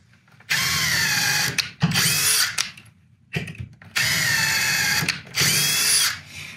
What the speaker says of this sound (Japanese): まずは従来通り穴を開けます。